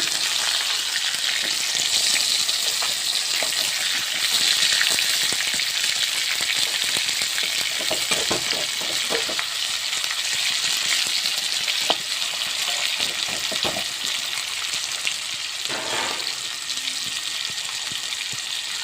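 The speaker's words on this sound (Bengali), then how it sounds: "যতক্ষণ আমার মাছ ভাজা হচ্ছে" Pieces of pangas fish frying together in a pan, giving a loud, steady close-up sizzle throughout, with occasional stirring knocks and scrapes and no voices.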